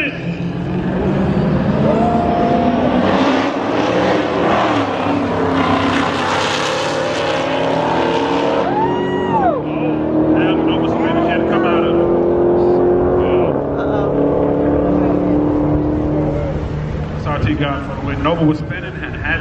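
Two SRT Redeye cars launching down a drag strip, a loud sustained engine roar with tire spin and rising, sweeping engine pitch, mixed with excited shouting from nearby people.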